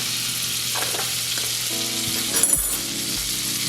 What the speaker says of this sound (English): now I'm going to put just about a half a teaspoon of garlic in there